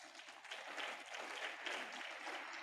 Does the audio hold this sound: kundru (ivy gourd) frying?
no